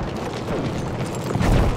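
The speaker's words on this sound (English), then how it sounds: "Oh, that grenade bounced back. It almost got me." A grenade explodes in a first-person shooter, heard as a dense, rumbling low boom that fills the whole short moment without a sharp attack, with no talk over it.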